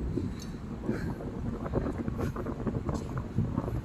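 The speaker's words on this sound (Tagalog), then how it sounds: "Naano nyo ba yung hangin guys?" Wind blows outdoors in cool weather near a metro line, buffeting the microphone with a steady, low rumbling rush and no voices.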